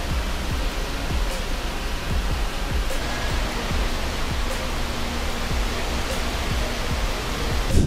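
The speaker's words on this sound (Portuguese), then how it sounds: "Olha essa liberação de água de emergência na represa de Glen Canyon." Water released at Glen Canyon Dam in an emergency discharge roars as a dense, unbroken rush of broadband noise that keeps up steadily throughout, with no voices.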